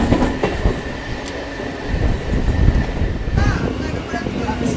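Local train rolling into Sonarpur Junction on the Sealdah South section, with a loud continuous rumble and clatter of wheels on track, near and steady throughout, with faint voices in the background.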